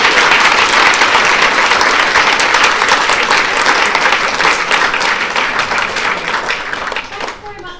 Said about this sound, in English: give a massive round of applause for Fran